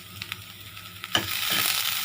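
Curry leaves hitting hot oil for an aloo paratha filling: a few light taps and a sharp crackle, then a sudden bright sizzle that stays steady and close.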